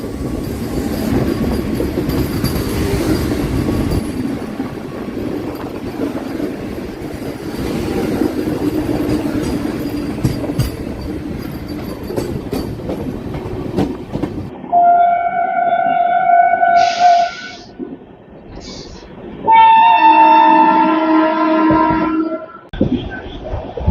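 Onboard ride on the Satavahana Superfast Express, a new LHB-coach train between Secunderabad and Visakhapatnam, with steady loud rolling rumble for most of the run, then tonal whines and horn-like hoots near the end as the noise drops.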